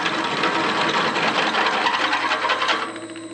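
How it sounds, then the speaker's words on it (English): Steady grinding, whirring drilling noise from a drill press running a 5/8-inch bit through metal, loud and continuous for about three seconds before easing off. "I'm just gonna run a 5/8 drill bit through these holes"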